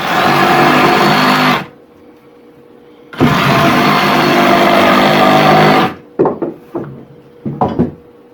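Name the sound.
reciprocating saw (sawzall) cutting wood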